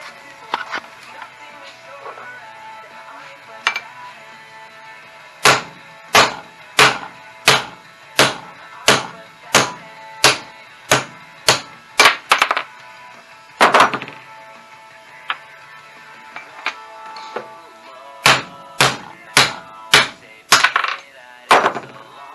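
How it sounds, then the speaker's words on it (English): Repeated loud metallic hammer strikes on a socket or extension knocking down case dowels on a Saab GM F35 transmission, in an even rhythm, two long runs of a dozen blows each, with a few scattered taps and a pause between. "knock those down with a hammer and socket, or a hammer and extension"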